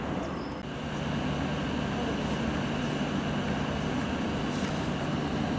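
A train at Upminster Station on a winter's afternoon gives a steady, close rumble with a low hum throughout, as a service for Ealing Broadway prepares to depart.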